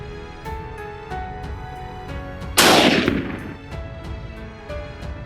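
A single sharp rifle shot cracks loudly and close, its burst decaying over about half a second, over a bed of steady background music.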